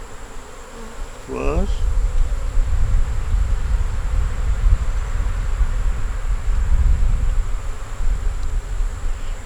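A dense, steady buzz of honey bees swarms close around an open hive holding a queen, eggs, brood and stores, following a brief spoken word.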